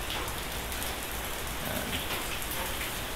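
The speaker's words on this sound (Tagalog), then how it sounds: "Umuulan guys, hindi tayo makagala" Steady rain falls on Polillo Island in the Philippines, a constant dense hiss of drops on surfaces throughout, with a single short word spoken over it.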